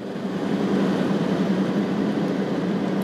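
A $500 Jeep Grand Cherokee ZJ with 247,000 miles at about half throttle, heard from inside as a steady, broad engine and road drone with a low hum and no distinct peaks.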